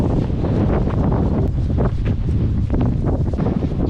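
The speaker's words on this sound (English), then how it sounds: "It's very windy today" Strong wind buffets and roars across the microphone on a Lake District fell above Thirlmere, a dense, gusty rumble that fills the whole moment with no other sound.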